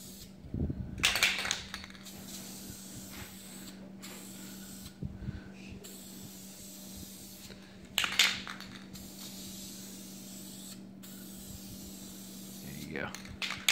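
Aerosol paint is sprayed onto an LS2 V8 engine in short bursts, hissing close by in several separate blasts between pauses over a constant low hum, with people talking quietly nearby.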